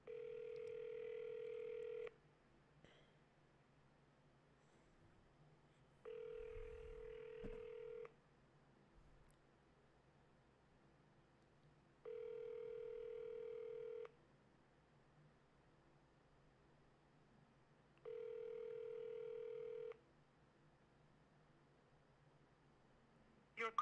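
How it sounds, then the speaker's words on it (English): A phone call placed to a cell number rings out in evenly spaced electronic tones, about two seconds on and four off, repeating four times over a faint hiss, with a brief rustle between rings. "Let me call the cell number instead."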